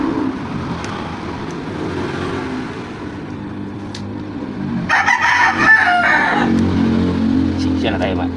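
A rooster crows once, loud and close, midway through, with engine-like rumble and faint noise around it in a truck rubber bushing fabrication workshop.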